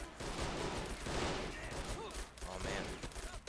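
A faint, dense crackle of rapid gunfire rolls on without pause as soldiers are mowed down in Men of War Assault Squad 2, with distant shots overlapping into a continuous fusillade.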